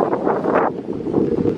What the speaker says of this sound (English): It's so windy, huh?